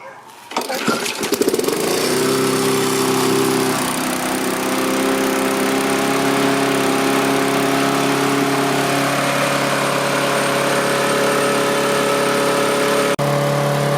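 A Briggs and Stratton 10T800 engine on a Craftsman lawn mower cranks and catches, then runs loud and steady close by, its drone dipping slightly in pitch partway through.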